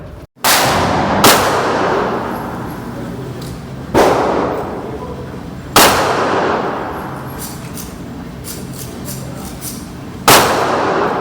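A 1911 pistol fired from a 10-round Checkmate magazine: four loud, sharp gunshots spaced about two seconds apart, each with a ringing outdoor decay, and no talk between them.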